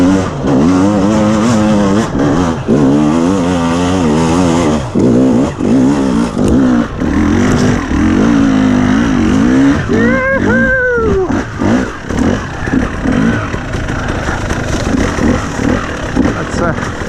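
A KTM 300 TPI two-stroke dirt bike climbing a steep, dry, loose hill, its engine revving hard and fluctuating with throttle bursts, close and loud throughout, with a voice talking over it.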